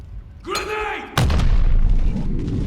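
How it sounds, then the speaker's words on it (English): A grenade goes off during a Modern Warfare 2 multiplayer match: a sharp, heavy boom hits just over a second in and leaves a rumbling tail, after a brief burst of shouted voice. "Grenade."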